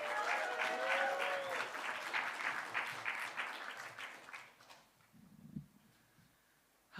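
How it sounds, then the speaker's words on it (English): An audience gives a poet a big round of applause at a poetry slam event, a loud burst of clapping that fades away over several seconds and leaves near silence. "could we give a massive, please, round of applause for Anja Malik"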